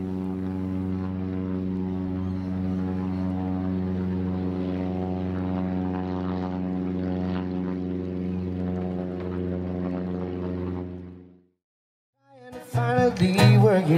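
A propeller aircraft drones steadily with a deep, even engine hum while flying back to Whitsunday airport, holding for about eleven seconds before cutting abruptly to silence, followed by a brief burst of music.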